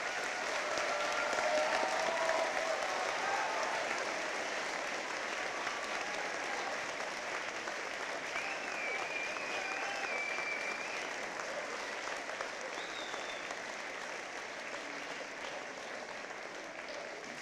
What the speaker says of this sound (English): Can we have another round of applause for our veterans as they exit the gym?